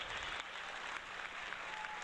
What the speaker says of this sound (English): press the claps, Chad